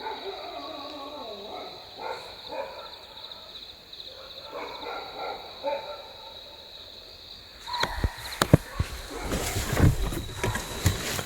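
Dogs barking in a night-time jungle village while a leopard prowls close by, with deer alarm calls among scattered calls over steady insect drone, turning louder and busier near the end.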